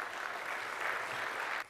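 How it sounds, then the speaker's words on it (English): Audience applause for New York City Comptroller John Liu at a breakfast event, a steady, fairly quiet wash of clapping that stops abruptly near the end. "you can give him applause too"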